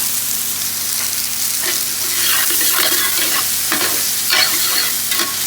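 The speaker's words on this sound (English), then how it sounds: "Heat to the pan and add the onion with the butter." Onion frying with butter in a hot pan while cooking for a whole lamb dish gives a loud, continuous sizzle with scraping stirring strokes and crackling bursts, heard close up.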